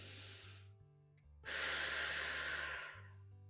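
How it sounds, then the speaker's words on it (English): Deep breath drawn in through the nose then released out through the mouth during an easy Pilates wake-up flow, a soft inhale followed by a loud, long airy exhale lasting about a second and a half. "let's breathe in through the nose and out through the mouth"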